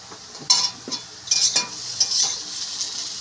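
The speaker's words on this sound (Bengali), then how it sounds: "এবার দিয়ে দিচ্ছি আমরা গ্রেট করা পেঁয়াজগুলো ভালো করে ভেজে নেব" Grated onions frying in a pan for a spiced potato fry, a bright hissing sizzle with several clattering stirs and utensil scrapes, close and moderately loud.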